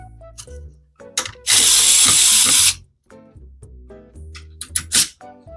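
A power drill driving CPU cooler screws on an Intel motherboard, with one loud sustained whir of about a second near the microphone between shorter clicks and taps of handling.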